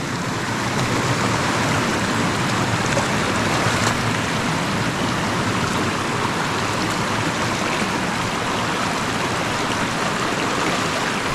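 A year-round river runs through mountain forest, a steady broadband rush of flowing water that holds even and close throughout with no breaks.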